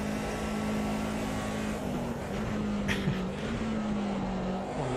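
Race car engine in the sim racing game Automobilista 2 at Donington Park, a historic car droning steadily at near-constant pitch with small rises and dips as it slides through corners, continuous and fairly loud with no talk.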